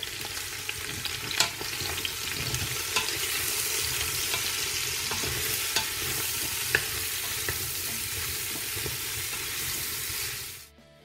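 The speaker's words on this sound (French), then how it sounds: "Donc on fait bien suer les légumes" Vegetables sweating in a hot pot with cumin, stirred steadily, give a dense, even sizzle with scattered spoon scrapes and clicks for about ten seconds, close and alone, before cutting off abruptly.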